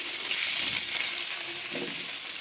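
Potatoes and eggplant fry in hot oil in a home-style Bengali kitchen, giving a loud, continuous hiss close by, with a couple of soft stirring bumps beneath and no voices.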